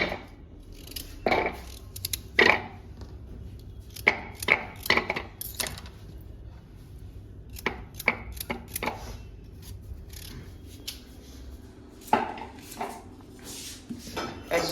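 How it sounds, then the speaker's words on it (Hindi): A knife chops peeled carrots into pieces on a board, giving irregular clusters of sharp, close taps that continue throughout at a moderate volume. "सबसे पहले गाजर ले उसको छिलके उतार के इसके पीस में काटा।"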